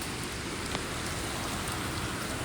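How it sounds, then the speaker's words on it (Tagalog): Steady rain falls on a dark, wet day during a walk to a market, a faint, even hiss of drops that runs unbroken, with no voices over it. "Madilim, guys. Umuulan."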